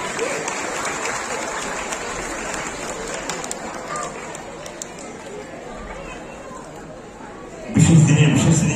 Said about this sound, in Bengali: জোরে সকলে হাততালি দেবেন